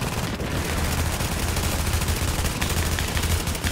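Sustained gunfire in Tom Clancy's The Division on PS4 crackles densely and continuously as a loud, rapid barrage with no pauses.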